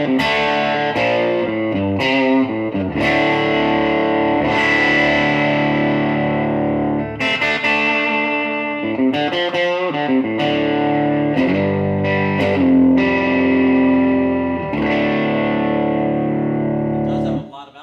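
Distorted Telecaster-style Acme Guitar Works Hotrod electric guitar on the bridge pickup, through a two-EL84 tube amp with slight compression, playing a busy riff of chords and single-note runs, loud and continuous without speech.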